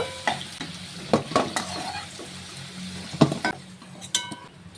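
Dry red chilli and nigella seeds dropped into hot oil, with a spoon stirring and scraping the pan in sharp intermittent bursts over a soft sizzle, close up with no talk.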